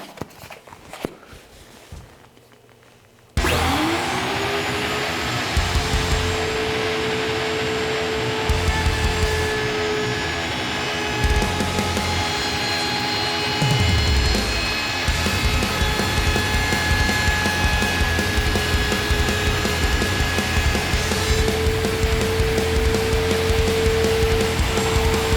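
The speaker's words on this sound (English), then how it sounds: "I'm going to use this specialty bit specifically for rounding over edges on a skateboard" A router fitted with a round-over bit trims the edges of a skateboard deck, starting abruptly after a few seconds of quiet and then holding a loud, steady motor whine with shifting cutting noise throughout.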